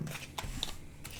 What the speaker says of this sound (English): they enjoy hearing the cards being shuffled